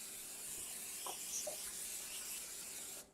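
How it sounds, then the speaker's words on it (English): Cooking spray hisses in a steady, continuous burst as parchment lining a baking pan for pumpkin rolls is coated, close and fairly loud, then cuts off abruptly near the end. "You're going to thoroughly spray your parchment and all the edges of your pan"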